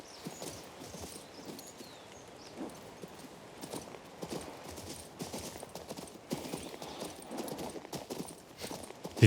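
Horse hooves clip-clop in a steady walking rhythm in King's Bounty II, soft and fairly faint, with light ambient game sounds around them.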